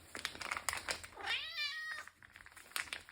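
A cat gives a single clear, rising meow about halfway through, close and fairly quiet, with light rustling and small clicks before and after.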